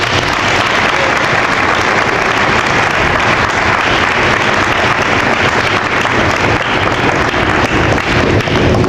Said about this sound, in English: Community, give yourselves a hand.